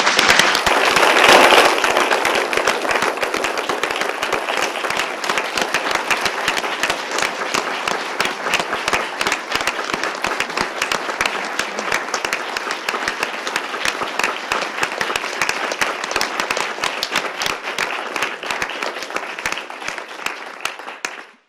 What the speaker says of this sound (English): I'd like y'all to join me with a round of applause